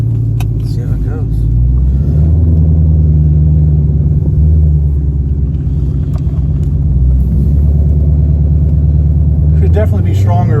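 Modified 2020 Shelby GT500 with a new supercharger pulley, tensioner and idler accelerating hard on a private road, a loud deep engine rumble and roar heard from inside the car, with people talking over it.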